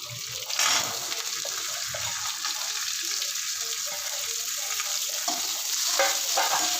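Cumin and curry leaves sautéing in oil in a pan while a tomato, eggplant and ridge gourd dish is cooked, giving a continuous bright hiss of frying, close and steady, with no talking.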